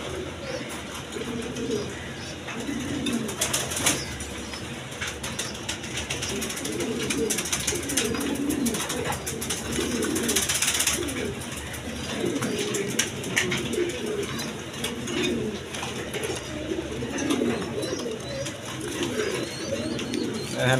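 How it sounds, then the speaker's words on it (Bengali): Pigeons coo continuously in a loft or coop, with several birds overlapping in soft, rolling calls and some fluttering, fairly close, and faint talk in the background. "একদম ছটফটা কবুতর।"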